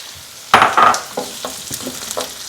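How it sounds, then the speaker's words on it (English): Onions sautéing in bacon grease for BBQ baked beans, a burst of sizzle and stirring as they go into the pan, then softer crackling that settles into a steady fry. "So we're going to add these other onions and we're going to saute these."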